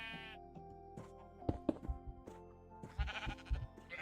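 Sheep in a farm video game bleat in several short, wavering calls, mixed with soft knocks and clicks, fairly faint overall.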